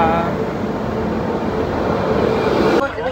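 Steady rumble and rattle inside a moving Mumbai local train, loud and continuous, dropping off abruptly near the end.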